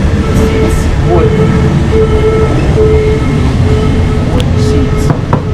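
A local train rolls along in southern Thailand, heard from inside a carriage with wooden seats: a loud, steady rumble of wheels and rails with periodic clicks and faint tonal squeals close by.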